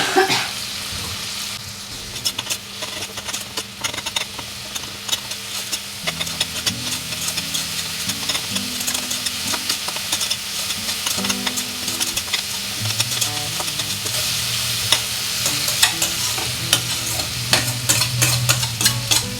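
Spice paste with tomato frying in a pan for a sour fish curry, a continuous sizzle with repeated scraping strokes of a spatula stirring, close and steady, with a faint tonal hum underneath.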